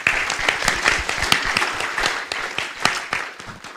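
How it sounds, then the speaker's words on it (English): An audience applauds panelists at the close of a security forum, a dense, continuous round of clapping at steady volume throughout with no one talking over it. "I'd like us all to give a round of applause to our panelists."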